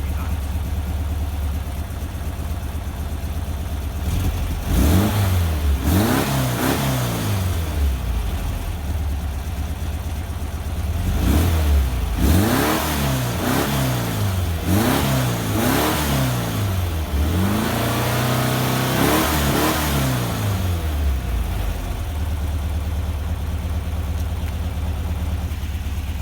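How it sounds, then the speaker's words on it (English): A rebuilt VW Vanagon Type 4 engine revs up sharply three times from a steady idle, each rise and fall of engine pitch loud and close, with a voice speaking briefly between revs. "I'll give it a rev it up 3 times."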